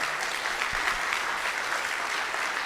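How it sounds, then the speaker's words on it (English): A warm round of applause from an audience at a launch event in honour of a patent recipient, steady and full-bodied clapping that holds evenly throughout without a break. "Please give him a warm round of applause."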